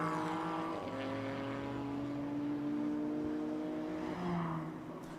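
GT4 race cars drive past at Okayama, among them the D-Station Racing Aston Martin, a sustained engine drone with shifting tonal whine rising and falling, steady and fairly distant with no speech.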